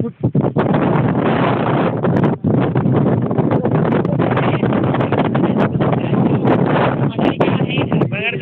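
Strong wind at Kokankada roars and buffets the microphone in a loud, continuous rush for the whole stretch, with brief dips and gusts.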